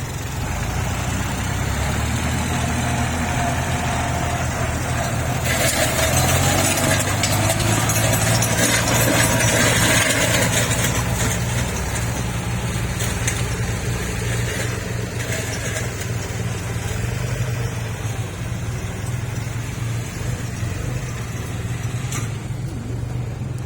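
Steady low three-cylinder diesel tractor engine running at idle, continuous and close, with some clattering and a slight rise in intensity midway.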